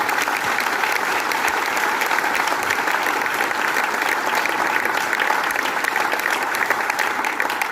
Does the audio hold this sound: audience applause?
yes